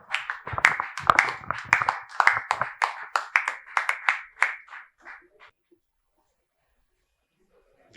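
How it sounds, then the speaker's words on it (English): A conference hall audience at a criminal law review session claps for the session chairman. The brisk, uneven applause thins out after about four seconds and dies away to silence, with a faint voice mixed in early. "please let us give a resounding round of applause to the chairman of session"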